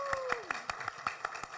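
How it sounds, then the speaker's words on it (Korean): About eight evenly spaced hand claps ring out in a steady rhythm, a small group clapping together during a live-streamed religious gathering, with a faint sliding tone under the first half. "박수 한번 치고 갈까요?"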